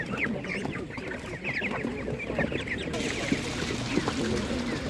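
Many broiler chickens clucking and cackling continuously at a market, close and busy, with murmured human voices in the background.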